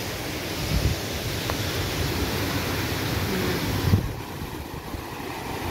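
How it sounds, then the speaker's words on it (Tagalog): Steady outdoor wind rushing across the microphone, a broad continuous roar with faint gusts and no voices. "Medyo malakas-lakas pa rin ng konti yung hangin."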